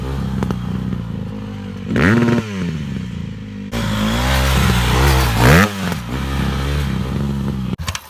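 A dirt bike engine revs hard through a jump, loud and close, its pitch climbing and dropping in sweeping surges with clattering chain and mechanical rattle underneath, and no talk.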